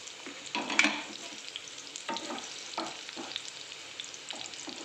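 Okra sizzles faintly in a pan as it is stirred into a yogurt curry, soft frying crackle with a few scraping stirs, quiet and close with no voices.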